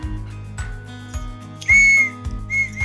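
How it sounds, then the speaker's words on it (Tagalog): Two sharp blasts from an emergency whistle, short and loud, heard close up over a low steady background hum. "So dapat importante sa atin na may pito para kung sakaling matrap tayo"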